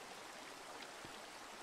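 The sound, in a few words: flowing water in Minecraft video game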